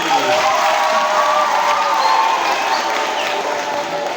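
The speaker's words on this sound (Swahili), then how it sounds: "Tumpigie makofi" An audience at a Catholic church seminar claps steadily with some cheering and children's voices mixed in, a dense continuous burst of applause that fills the room at fairly close range.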